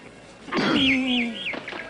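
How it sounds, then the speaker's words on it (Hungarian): A bird whistles a wavering, sliding call over about a second, close and clear, followed by a few fainter chirps in a quiet outdoor setting. "Hallod már a madárkát?"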